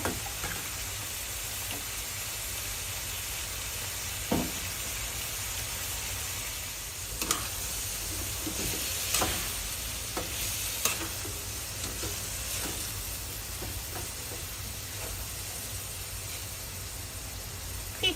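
Pickled bamboo shoots and pork are stir-fried in a home kitchen. A steady hiss of frying runs underneath, with occasional spatula scrapes and taps and no talk.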